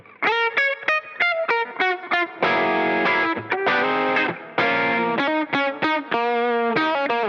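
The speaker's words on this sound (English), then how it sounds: "which originated when the guitar signal was a little bit too powerful for the analog circuits, and it clipped the signal, but just gently." Electric guitar run through gentle overdrive, its slightly clipped tone ringing out as a sequence of short choppy notes and longer sustained chords, loud and up close with no voices.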